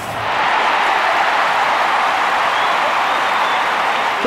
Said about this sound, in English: Crowd responding to that.